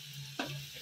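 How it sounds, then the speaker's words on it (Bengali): Potatoes fry quietly in a pan with a faint, steady hiss and a single soft clatter of stirring midway. The sound is short, with no talk. "আলু ভেজে নিচ্ছি।"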